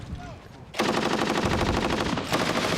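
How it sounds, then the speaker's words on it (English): A machine gun fires in a sustained, loud, rapid burst toward a city below, its dense rattle running continuously after a short quieter lead-in. "he was then filmed firing a machine gun in what seemed a random manner"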